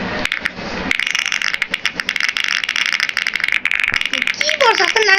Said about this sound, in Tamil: கீபோர்ட் சத்தம் தாங்க வெறுக்கனமாக இருக்குது.